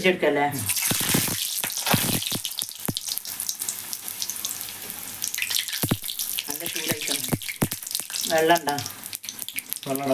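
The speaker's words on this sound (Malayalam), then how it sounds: "അപ്പൊ സമൂസ പൊരിച്ചെടുക്കാട്ടാ." Hot oil sizzles and spatters loudly as samosas fry, crackling bursts coming in uneven pops, with a voice briefly murmuring in between.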